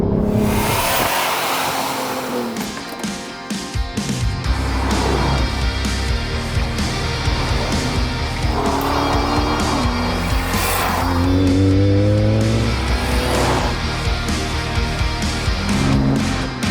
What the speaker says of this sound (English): VR6 warbling away and just move through the gears seamlessly.